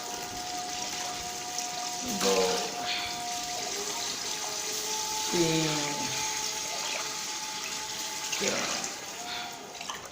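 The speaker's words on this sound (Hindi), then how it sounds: "ये वाले 8 गिलास हैं तो 16 गिलास हम इसमें ऐड करेंगे पानी के" Glasses of water are poured one after another into a cooking pot for chicken pulao rice, making loud splashing gushes at a steady rhythm. A voice counts aloud between the pours.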